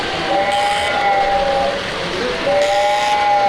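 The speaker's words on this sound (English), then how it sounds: "Here comes a train." A small model train at Greenfield Village's holiday village display in Dearborn, Michigan rumbles along steadily while a high whistle sounds twice, near and clear.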